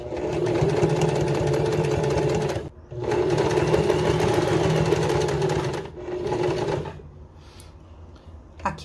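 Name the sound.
sewing machine stitching a fabric placemat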